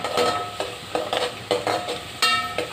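Onions sizzle in a hot pan while a spoon stirs them in regular scraping strokes, with a clink of metal against the pan at each pass, close and continuous with no voices.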